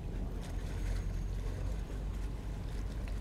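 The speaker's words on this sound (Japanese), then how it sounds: "聞こえます、この潮の波の音。" Sea waves wash steadily against a harbor near a seaside shop, a continuous low rumbling surge with faint wind, close and fairly loud with no talking.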